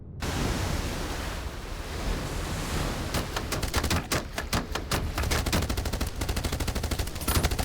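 Rapid gunfire in the video game Age of Water, fired at enemy hang gliders, a dense burst of repeated shots rising out of a constant rushing, wave-like background noise.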